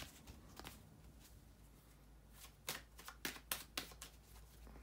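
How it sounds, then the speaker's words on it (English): Tarot cards shuffled by hand in a series of crisp riffling bursts, faint and close, with a quieter stretch first and several quick bursts near the end. "bear with me guys a second to shuffle the tarot cards"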